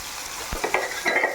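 Thick plantain slices frying in hot oil in a kadai, a brief close crackle with a soft clink of a utensil stirring them.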